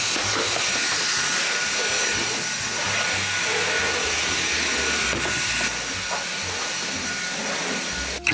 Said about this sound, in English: Don't vacuum up stuff like this, y'all.